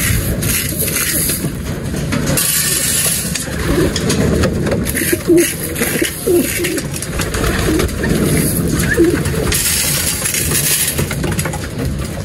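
Pigeons feed on a breeder and flyer seed mix while giving soft, repeated coos close by. The cooing rises over a steady low background hum.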